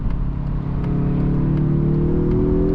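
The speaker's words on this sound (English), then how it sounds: "You definitely get a kind of old school style kind of turbo rush that happens when you are accelerating." A 2026 Mazda 3 Turbo Premium Plus sedan pulls hard in second gear in manual mode, its engine drone rising steadily with a whirring turbo note, heard from inside the cabin.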